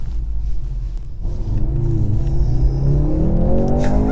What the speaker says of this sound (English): the exhaust is on loud